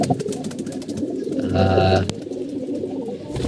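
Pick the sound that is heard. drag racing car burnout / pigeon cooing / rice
pigeon cooing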